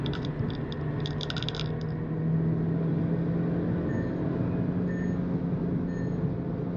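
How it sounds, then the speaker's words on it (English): Skoda Kushaq 1.5 TSI with a manual gearbox engine braking as it slows, a steady low engine drone with faint higher whine, continuous and moderately loud, without talk. "Now decelerating. This is how engine braking will sound like in this car."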